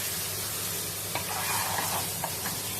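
Spices with jeera powder and garam masala are stirred and roasted in a hot pan, a soft continuous sizzle with a few sharp scraping stirs, close and quiet with no talking.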